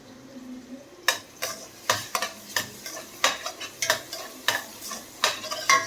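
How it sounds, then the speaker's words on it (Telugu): Onions sautéing in a pan for an Indian curry, stirred with a spoon: a steady soft sizzle under a string of sharp scraping stir strokes about every half second, close and fairly quiet, with no talking. "ఆనియన్స్ కొంచెం మగ్గినాయి అన్నమాట"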